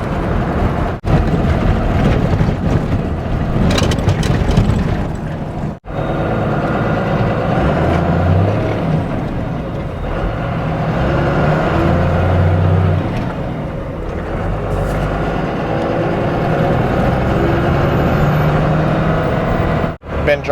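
A Dodge bought broken and sight unseen, now with a misbehaving fuel gauge, drives with its engine humming steadily from inside the cab, with a few brief drops and shifts in the drone.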